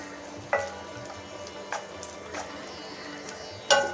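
Turmeric being stirred into onion and tomato frying in a pan for a quick no-dal tomato rasam, with a few sharp scrapes of a spoon against the pan over a faint, steady sizzle.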